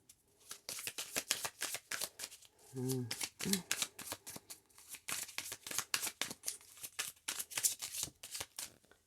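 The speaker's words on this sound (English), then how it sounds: "Let's get a few tarot cards with that." Tarot cards are shuffled up close in a rapid series of crisp riffles and flicks, with a soft voice speaking briefly partway through.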